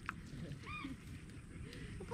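Ducks honking and quacking outdoors at a slash-and-burn farm clearing, a few short nasal calls at middle distance, faint against background noise.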